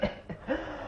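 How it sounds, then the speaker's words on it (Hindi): In a Hindi radio play, a short throaty cough rasps out in two or three quick bursts, close and moderately loud, all within a second. "फिर ये खांसी की आवाज कहां से आ रही है?"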